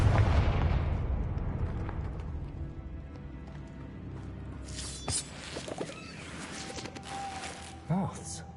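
Spell blasts such as Incendio and Confringo in the game Hogwarts Legacy, a few sharp bursts and booming impacts scattered over a rumbling game backdrop, with a person talking over much of it.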